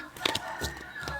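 A rooster crows in the background behind a Thai-language fortune-telling session, a faint, brief call with a few sharp harmonic bursts that sits under a soft room hum.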